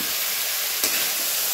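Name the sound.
frying in oil with salt and turmeric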